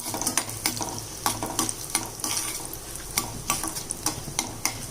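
Sizzling and crackling of spices tempering in hot ghee for tomato dal, with repeated sharp pops and stirring scrapes over a steady hiss; no talking.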